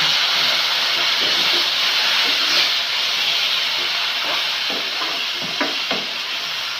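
Water poured into a hot pan of roasted vermicelli sets off a loud, steady sizzle and steamy hiss that carries on evenly throughout, close by.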